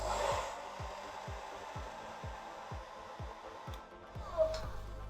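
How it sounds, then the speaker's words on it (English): A hair dryer fitted with a diffuser runs steadily while drying curly hair, a continuous airy whir with rhythmic low thumps and faint rustling throughout. "Lifting at the root, putting my hair up into the diffuser"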